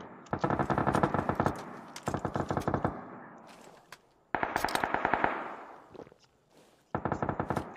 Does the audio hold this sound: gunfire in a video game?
yes